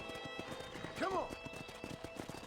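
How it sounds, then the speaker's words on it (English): Horses in the Red Dead Redemption video game, with hooves clip-clopping in a steady beat and a short whinny rising midway, all under a voice. "Let's see if we can't wrangle some horses."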